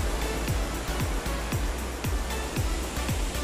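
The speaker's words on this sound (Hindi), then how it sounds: "पानी ये देखिए।" Water rushes and splashes steadily outdoors on an evening nature walk, a broad continuous wash with faint periodic thumps, loud and close with no talk over it.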